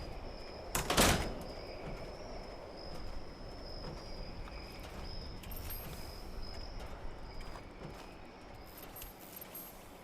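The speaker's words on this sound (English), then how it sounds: "Shut that door" A heavy door bangs shut once in Fallout 76, at the feral ghoul sanctuary: a sharp, loud slam early on, followed by a steady low in-game ambient hum with faint insect-like chirps.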